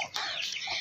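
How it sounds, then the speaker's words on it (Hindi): Hens and chicks clucking and peeping close by, a short burst of soft, high chirping calls at low volume. "और ये मुर्गी के बच्चे हैं, और ये सील मुर्गा"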